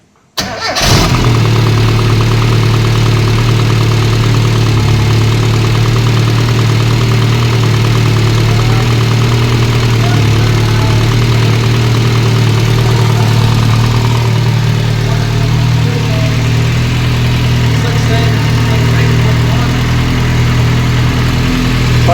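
A turbocharged classic Mini engine cranks briefly and fires, then settles into a loud, steady, slightly uneven idle that runs on close by for about twenty seconds with no one talking.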